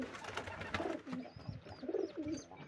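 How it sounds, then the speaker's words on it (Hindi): Pigeons cooing near their nest and chicks, with soft, repeated low coos at close range and faint bird chirps above. "ये भी बच्चा है कबूतर का, इसका बच्चा है, देख लो।"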